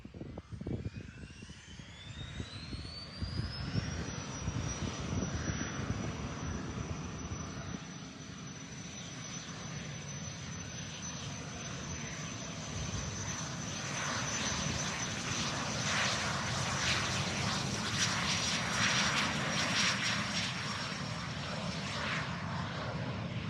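Warbird aircraft engine roaring as the plane takes off, heard from a distance at an airshow. A loud, sustained drone with a rising whine grows and then holds steady through the takeoff, and no voices are heard.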